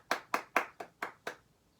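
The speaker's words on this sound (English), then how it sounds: "Then we have the 7 fast hand claps where it goes." A quick run of sharp hand claps in a musical cue, six or seven evenly spaced crisp slaps close up, then silence.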